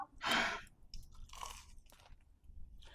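Crunchy fried momos being chewed close up, a loud crisp bite followed by several softer crunching chews over about three seconds, with no talking.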